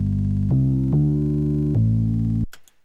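A humming bass sample sequenced in OctaMED on an Amiga plays sustained low droning notes that change pitch a few times, loud and buzzy, then cuts off abruptly into a short click.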